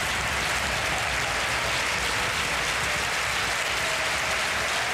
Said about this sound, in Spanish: Y vaya ovación